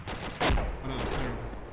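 A shoulder-fired rocket launcher goes off with a single sharp, heavy blast that rolls into a long, rumbling tail, loud and close, with no talk over it.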